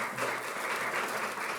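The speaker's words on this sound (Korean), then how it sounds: "자, 박수 한번 주세요." Audience clapping at a student gospel rally, a brief, even burst of applause from a crowd filling the whole moment.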